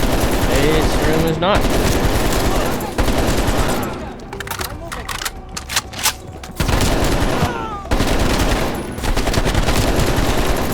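Rapid automatic gunfire from Call of Duty Cold War, loud and close, bursting in sustained volleys with a lull in the middle, while someone speaks over the shooting.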